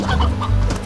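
Chickens in the farming video game Slime Rancher cluck loudly and close up in a short, choppy burst of clucks with no talking.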